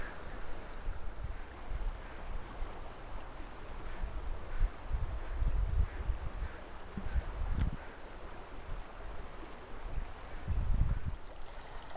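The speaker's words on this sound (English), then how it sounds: "This right here is where we'll be following the creek." Water of Hyde Creek rushes along a park trail in a steady, broad wash. It is faint and distant, with gusts of wind buffeting the microphone in low thumps at intervals.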